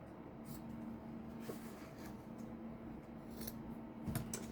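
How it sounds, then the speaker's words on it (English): Scissors snip through fabric strips being trimmed for a fabric strip book, a few short crisp cuts close by over a steady low room hum, with no talking. "I'm going to trim it down a little bit"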